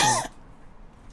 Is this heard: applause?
no